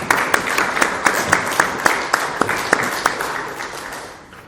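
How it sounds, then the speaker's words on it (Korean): A church congregation gives a round of applause after a Christmas-season worship song, the clapping steady and moderately loud, fading out toward the end. "우리 감사한 마음으로 박수 한번 부르겠습니다."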